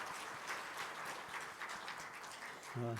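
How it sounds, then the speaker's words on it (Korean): Church congregation at a Sunday service applauding in welcome, a soft, steady wash of clapping that holds evenly, with a brief voice near the end. "박수로 환영합니다."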